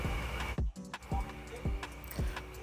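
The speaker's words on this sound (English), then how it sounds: "Move the machine slowly back and forth over the hair as you feel it getting tighter." A Newtry loc machine works hair extensions into locs, giving a steady series of close, low mechanical thumps with light clicking, repeating about twice a second.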